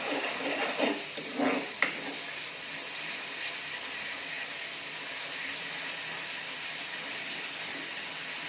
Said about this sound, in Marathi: तेल गरम झालं आहे. आपण आता याच्यात ते वाटण घालूया. आता आपण चांगलं मिक्स करून केलं तेल सुटेपर्यंत.